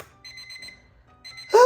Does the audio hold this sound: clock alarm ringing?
yes